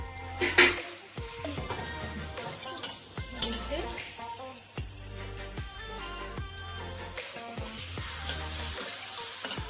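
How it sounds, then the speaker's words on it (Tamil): Vegetables sautéing in a little oil for momo filling, a continuous sizzle with repeated metallic stirring clinks and scrapes against the pan. "எல்லா காய்கறியும் போட்டு வதக்கணும்."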